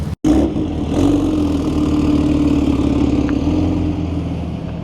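A Porsche 996 Turbo flat-six with a JC Hutch exhaust idles close and loud with a burbling low drone, briefly swelling in a light rev before settling back to a steady rumble.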